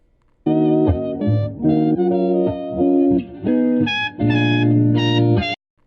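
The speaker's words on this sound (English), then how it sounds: "This will make the EQ come in suddenly." Distorted lo-fi hip hop plays in short bursts, its tone brightening and darkening as an automated EQ filter sweeps open and closed, with abrupt changes between sections.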